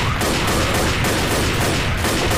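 Dense, continuous automatic gunfire from the video game Left 4 Dead, a loud unbroken barrage of rapid shots filling the whole stretch with no pauses and no voices.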